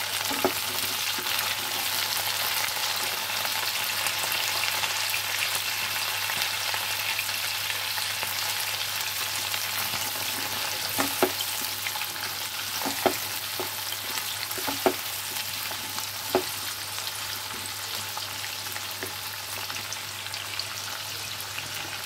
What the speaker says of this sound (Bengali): আলু গাজর সব একসঙ্গে ভেজে নেব